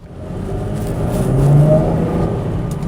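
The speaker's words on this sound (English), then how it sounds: "This car sounds really good." A Chevrolet Camaro engine revs up and settles again, a steady, loud, deep rumble that swells toward the middle and holds without any voices.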